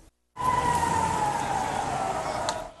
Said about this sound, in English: Israelis run for cover as sirens warn militants from Gaza are firing more rockets.